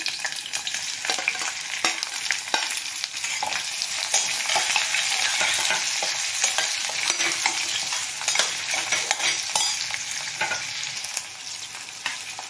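Onions fry in a pan for a non-veg gravy, a steady close sizzle with frequent scraping stirs throughout.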